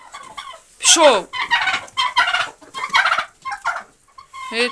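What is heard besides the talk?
turkey gobbling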